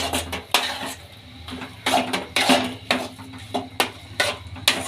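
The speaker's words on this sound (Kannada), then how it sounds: "ಈಗ ಮತ್ತೊಮ್ಮೆ ಮಿಕ್ಸ್ ಮಾಡ್ಕೊಳ್ಳೋಣ" A metal spatula stirs a dry besan and capsicum curry in a pan, making sharp, irregular scrapes and clanks against the pan at close range.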